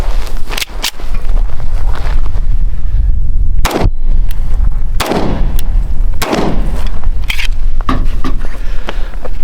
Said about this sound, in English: These will be the first shots fired.